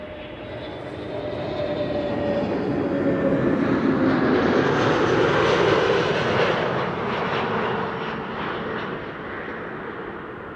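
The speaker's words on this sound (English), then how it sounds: "Transavia up next. Another A321neo arriving from Malaga." A Transavia Airbus A321neo arriving from Malaga on a frosty winter day, its engine roar swelling steadily to a broad peak mid-pass and then easing off, loud and close, with no voices.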